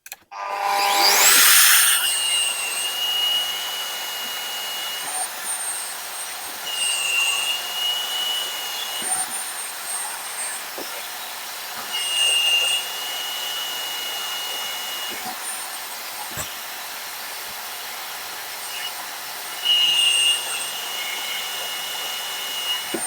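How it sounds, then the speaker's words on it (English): A power drill whines in repeated short bursts over a steady motor roar, each burst rising briefly then settling back, as it drills holes in a knife blank with a dull bit. "I'll get these holes drilled."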